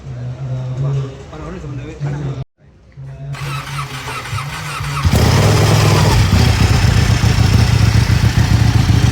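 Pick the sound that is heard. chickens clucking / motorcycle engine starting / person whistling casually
motorcycle engine starting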